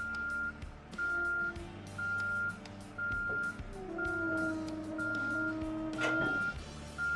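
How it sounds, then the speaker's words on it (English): A tractor truck backing up to a specialized trailer gives out a steady run of repeated electronic reversing beeps in evenly spaced pulses. An idling engine rumbles underneath, and one louder clank comes near the end. "Back your tractor up to the trailer."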